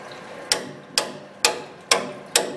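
A hammer repeatedly strikes a rusted bearing to shock it loose, five sharp metallic blows at a steady rhythm about half a second apart, each ringing briefly and decaying, close and clear with no talk.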